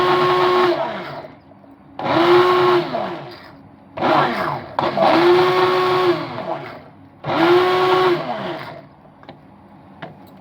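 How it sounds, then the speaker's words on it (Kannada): Kitchen blender running in several on-off bursts as it purées a cooked tamarind-leaf mixture, each burst a loud close whirring whine, with short pauses and small clicks between. "ಇವಾಗ ಇದನ್ನು ಬ್ಲೆಂಡ್ ಮಾಡ್ತೀನಿ."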